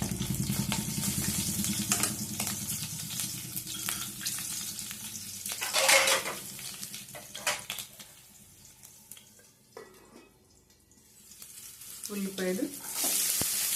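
Curry leaves, dried red chilies and green chilies spluttering in hot oil, a loud close sizzle that swells and eases, with a brief voice murmuring near the end.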